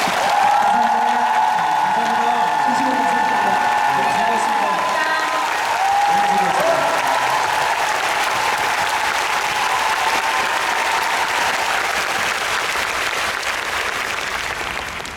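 Sustained applause from a large concert audience fills the clip, loud at first and then gradually tapering, with faint voices mixed in.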